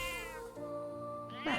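In the video game Metaphor ReFantazio, a cat gives a drawn-out, wavering meow followed by a second, shorter cry, close and clear with no voices over it.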